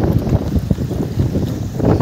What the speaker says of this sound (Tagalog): natapat kami sa malakas ang hangin